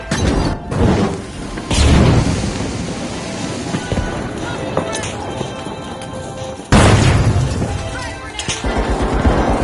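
Frag grenade blast in the video game The Finals, a loud booming explosion followed by a second heavy burst, layered over dense game noise and music.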